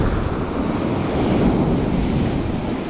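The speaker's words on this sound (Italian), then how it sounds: "È aumentato il vento, è aumentata la corrente." Wind and sea waves wash against the shore during a spinning-fishing outing, with a strong current running. A continuous, close surf roar carries gusty wind buffeting the microphone throughout.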